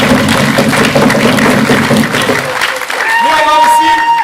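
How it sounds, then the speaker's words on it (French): A theatre audience applauds the Détours de Planches troupe at their 2024 show, dense clapping filling the room, then thinning as tonal music or a voice rises near the end. "on peut les applaudir."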